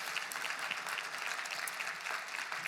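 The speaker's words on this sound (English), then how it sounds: "yeah, you can applaud for that" Brief applause from a conference crowd during a political address, a dense and even patter of clapping heard fairly quietly throughout.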